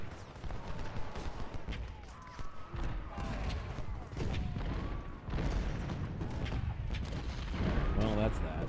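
Cannon and musket fire rumble through a Civil War battle in the strategy game Ultimate General, a dense, continuous barrage of booms and crackling volleys with a voice talking over it.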